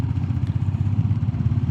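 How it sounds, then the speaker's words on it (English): A Royal Enfield Classic 350 fitted with a FuelX Lite and an open DNA air filter throbs with a loud, steady low-pitched thump from engine and exhaust, close by and uninterrupted. "still the sound of the exhaust, but not too loud from the engine side"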